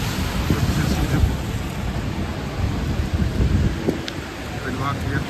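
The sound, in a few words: rain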